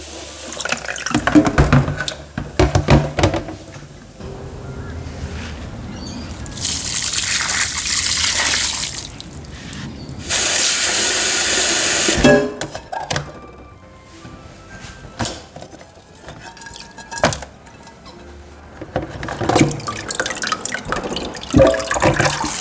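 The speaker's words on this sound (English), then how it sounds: "Japanese sushi rice must be washed twice and soaked for 30 minutes before cooking, and that is what I'm doing right now" Tap water runs into a sink while Japanese sushi rice is washed, bursts of steady splashing flow separated by quieter handling, drips and clinks of the bowl, close and fairly loud.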